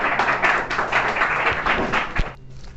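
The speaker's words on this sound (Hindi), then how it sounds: "तालियां" At a college farewell party, an audience claps in a short burst of applause, with individual claps audible in an uneven rhythm before it cuts off near the end.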